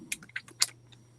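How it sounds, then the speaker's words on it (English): Light computer keyboard typing nearby, a few scattered keystrokes clustered in the first half-second under a steady low hum, then fading to quiet. "I can hear you typing away over there, Miss Gail."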